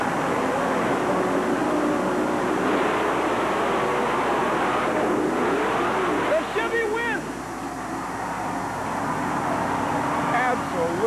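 Monster trucks race at a 1990 USHRA event in Oklahoma City, Chevrolet against Ford, a continuous loud engine roar from the arena with crowd noise, under an announcer talking throughout.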